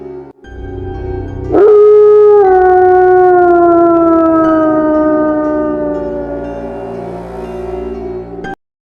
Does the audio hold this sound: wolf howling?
yes